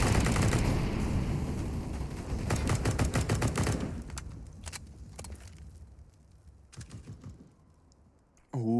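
AWP sniper rifle and other gunfire in a CS:GO pro match on the Nuke map, dense overlapping shots and rapid clicking at first, then sparse isolated cracks and a sudden loud burst at the end.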